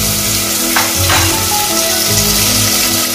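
Chopped onion and green chillies sizzle loudly in hot oil in a pan, a steady close-up frying hiss with a brief stir partway through, for a village-style goat head curry.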